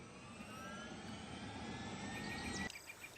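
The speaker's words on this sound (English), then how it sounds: "this is the little Robin helicopter" The small Robin helicopter in Farming Simulator 17 hums with a steady engine whine and tonal drone, faint and even, before the sound cuts off abruptly near the end.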